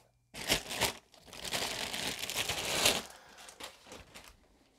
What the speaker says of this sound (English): This one is actually in a plastic bag.